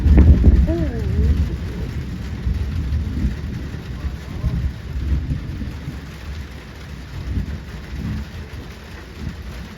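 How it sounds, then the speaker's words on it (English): Heavy rain pouring during a thunderstorm with low rumbling thunder, a dense, steady wash of noise that stays loud throughout, with a brief vocal exclamation near the start. "it's starting to rain hard."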